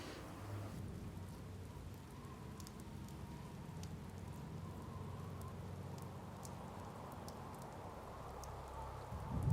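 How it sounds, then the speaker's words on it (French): Steady rain falling outdoors with a soft wind-driven hiss, a continuous even wash of patter across the whole stretch, moderately quiet and without voices. "Aujourd'hui, c'est le silence, le bruit de la pluie et des vents."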